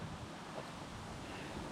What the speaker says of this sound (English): it's so windy that all these keep falling down